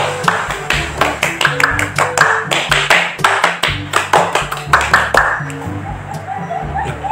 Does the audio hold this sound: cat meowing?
no